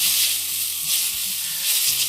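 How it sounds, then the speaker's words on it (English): Garlic and thin asparagus spears sizzle steadily in hot oil on an induction cooktop, a close, continuous frying hiss with small crackles and no voices. "once your oil's ready, then go ahead and throw in your garlic and your asparagus"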